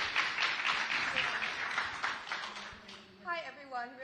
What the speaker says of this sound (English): if we could maybe hold the applause until the end